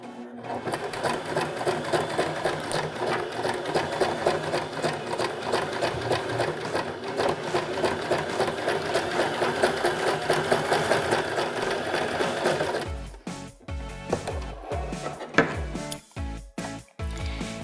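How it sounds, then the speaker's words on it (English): Sewing machine stitching down the side of a cork zippered box pouch, a steady loud motor whir running continuously for about thirteen seconds before breaking into short stop-start bursts of stitching. "you'll sew all the way down to the lower edge"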